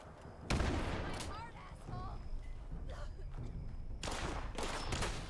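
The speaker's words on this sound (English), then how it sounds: "He's shooting me." Scattered gunshots from the video game Fallout 76 crack out as sharp, separate bursts at irregular intervals, mixed with game effects and someone talking between the shots.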